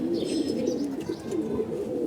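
Homing pigeons back from a race coo softly and steadily nearby, a low, murmuring warble running continuously with faint chirps above it.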